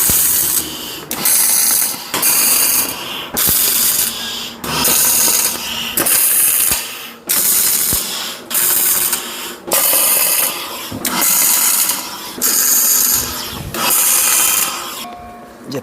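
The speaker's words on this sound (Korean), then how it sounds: "일단 태그 작업을 먼저 하고요." Tack welding steel parts for a tractor-mounted hydraulic log splitter: about ten harsh, crackling bursts of roughly a second each, separated by brief pauses, loud and close with no talking.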